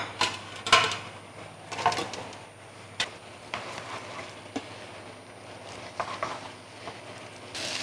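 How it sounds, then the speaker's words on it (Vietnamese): Green papaya, mushrooms and tofu skin stir-fried in a pan, with a soft sizzle under repeated scraping and clattering strokes of a utensil, close by and without talk. "Và bây giờ tôi sẽ cho hết cái phần nấm đu đủ cũng như là phần tàu hũ kia này vào, mình xào nó lên."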